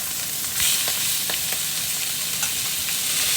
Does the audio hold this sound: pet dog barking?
no